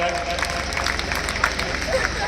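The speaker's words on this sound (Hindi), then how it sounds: "तालियों से आपका स्वागत" An audience claps together at a retirement honoring ceremony, producing a dense, steady patter of applause that fills the whole stretch at an even level, with faint crowd voices mixed in.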